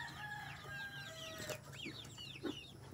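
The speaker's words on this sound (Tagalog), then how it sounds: "At ito naman yung mga bagong sisiw namin." Chickens on a farm, including new chicks, making faint chirps and clucks with a rooster crowing somewhere, in short overlapping bursts at a distance.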